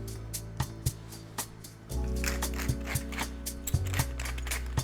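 A pepper mill grinds coarse black pepper onto a dry-aged strip loin steak, giving close, repeated ratcheting clicks and a steady mechanical grinding that grows louder partway through.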